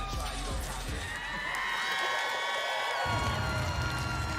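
A crowd at a bodybuilding show cheers and whoops loudly for a posing competitor at the Olympia, a sustained roar of shouts and applause that swells toward the end, with an announcer's voice mixed in.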